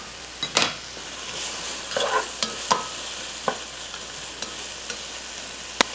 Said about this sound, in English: We'll mix that in. Let that garlic cook just for a little bit,